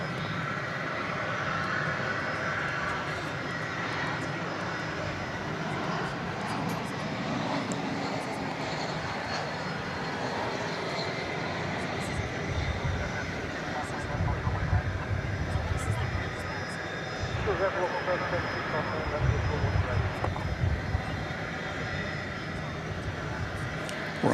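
An American Airlines Airbus A321 jet arriving at Dallas Fort Worth Airport at evening, its broad engine roar steady and moderately close, swelling somewhat toward the end, with someone talking over it.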